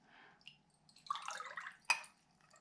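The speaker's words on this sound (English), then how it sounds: "pour this into the smaller beaker." Copper sulfate solution is poured from one glass beaker into a smaller one, giving a brief soft trickle and splash with a sharp glassy clink near the end, quiet and close with no talk.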